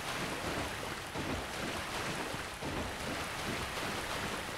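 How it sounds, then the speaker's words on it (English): Loud, steady rushing water in the video game Dark Souls Remastered, a dense broadband wash that runs unbroken throughout with no talking over it. "It's water. It's very loud."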